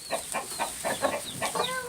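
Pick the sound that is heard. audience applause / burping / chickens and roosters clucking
chickens and roosters clucking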